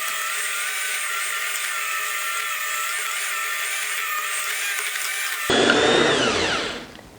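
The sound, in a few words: electric mixer beating lemon cupcake batter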